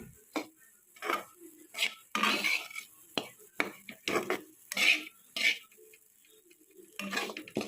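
A sweet chapati mixture with jaggery sautés in ghee, heard as sporadic sharp spatula scrapes and metallic clinks against the pan, close and uneven, with quiet gaps between strokes and only a faint sizzle.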